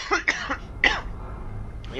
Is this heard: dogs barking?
no